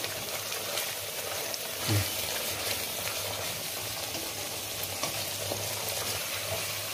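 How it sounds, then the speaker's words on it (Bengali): Ground spices with garam masala being sautéed in a pan for Bengali doi maach (fish in yogurt), giving a steady, close sizzle and frying hiss throughout with a faint scrape of stirring near the start. "মশলাটা আমার কষানো হয়ে গেছে"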